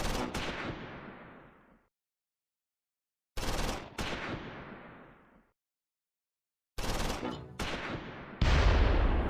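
Bursts of Browning .30 cal machine gun fire in Close Combat 4, Battle of the Bulge at the Siegfried Line: three loud, separate volleys, each trailing into a decaying echo, with silent gaps between them.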